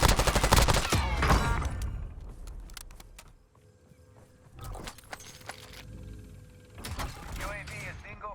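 Rapid automatic gunfire in Call of Duty Warzone, a loud burst at the start followed by scattered shots and game effects later, under someone talking.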